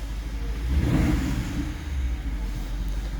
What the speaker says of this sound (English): let me start the car and see what I have now.